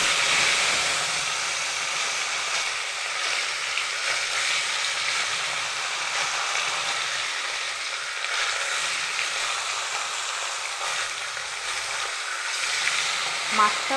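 Fish frying in hot oil in a kadai, a steady dense sizzle and hiss that holds evenly throughout, close and moderately loud, with no voices over it.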